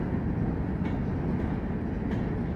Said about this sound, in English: Is this a fracking sander train?